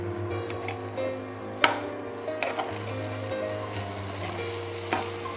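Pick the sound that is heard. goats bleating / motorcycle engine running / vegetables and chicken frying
vegetables and chicken frying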